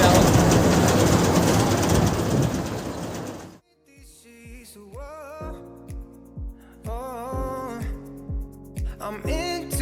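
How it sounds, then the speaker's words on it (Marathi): A toy train runs at Elephanta Caves, its wheels clicking over rail joints in a steady clickety-clack after a loud rushing start, with tonal squeals and bird calls mixed in. "आपल्याला इथून एक टॉय ट्रेन आहे पुढे घेऊन जाईल."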